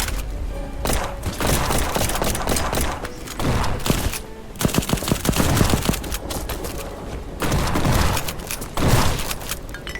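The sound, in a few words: gunfire shooting in the video game Black Skylands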